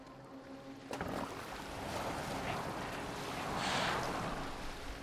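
Rowing a boat across water in Assassin's Creed Valhalla, a steady wash of water and wind with a soft rhythmic swell, continuous and moderately loud, with no talk over it.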